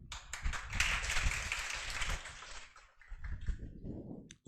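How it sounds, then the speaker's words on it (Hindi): An audience at a Teacher's Day celebration claps to welcome a teacher: a burst of close, busy applause for about two and a half seconds that drops off abruptly, followed by quieter scattered sounds. "जोरदार तालियों से स्वागत करें सर का।"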